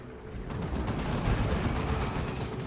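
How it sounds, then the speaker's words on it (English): Turret in Dawn of War 2: Retribution firing in a loud, continuous barrage of rapid shots that blur into a dense roar, with no voices. "Turret going off."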